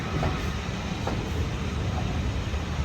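A Class 31 diesel locomotive hauls a rake of carriages on the North Yorkshire Moors Railway, producing a steady, loud rolling rumble with faint track clicks throughout and no voices.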